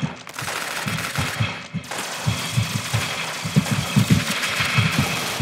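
Bursts of gunfire from guns in the video game Arsenal, a dense run of rapid low thumping shots with a brief pause near the start, loud and steady throughout with no talking.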